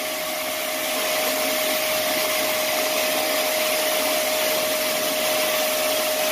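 A TFSI engine's intake draws in cleaning spray with a steady, loud rushing hiss and a thin constant whine, sustained evenly throughout without pause.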